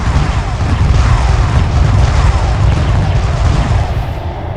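Spaceship fleet battle against an enemy frigate in the space strategy game Homeworld Remastered, a loud continuous rumble of booming weapon fire and explosions with no talking.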